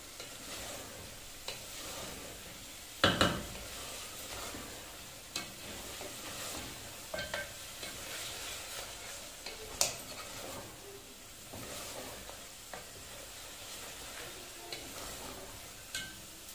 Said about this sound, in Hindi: इस तरह से करना है कि प्याज जो है वो थोड़ी भून जाए।